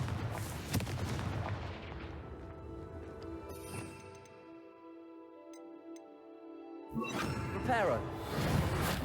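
Spell blast from Confringo in the video game Hogwarts Legacy, played on PC: loud, dense bursts and crashes early on, fading into a sustained ringing tone, then another burst of impacts near the end amid game sound.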